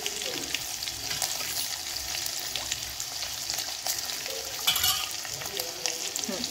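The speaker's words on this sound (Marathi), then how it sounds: "लसणाला थोडं लाल होऊ द्यायचं." Garlic fries in hot oil for a dal tadka, giving a steady, dense sizzle that stays loud and close throughout, with occasional stirring scrapes over the top.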